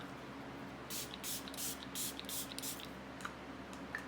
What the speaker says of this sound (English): Just take your setting spray